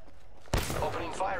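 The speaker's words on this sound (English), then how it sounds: "Opening fire on the enemy." A single sharp gunshot blast in Apex Legends, followed by a rattling tail of game sounds and a voice speaking over it.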